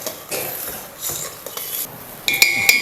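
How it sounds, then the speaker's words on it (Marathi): A spoon stirring turmeric powder into sugar syrup in a pan for motichur laddu, with soft scraping swirls and a few bright metallic clinks near the end, close and clear. "हे चांगलंसं आपण मिक्स करून घेऊया"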